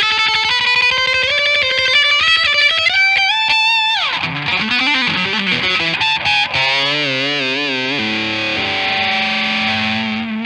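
Electric guitar played through an MXR Phase 90 phaser pedal set around 9 o'clock, distorted chords and single notes with a sweeping phase swirl and compressed sustain, loud and close throughout.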